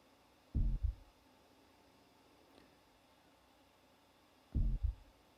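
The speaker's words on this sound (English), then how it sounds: "So the heartbeat sound is very low frequency." Heartbeat from a music mix: two distinct double-thump beats, deep and muffled, with long quiet between them over a faint hum.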